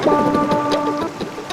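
Rain falls steadily with a rumble of thunder in the background, while a sustained tonal hum runs through the first second.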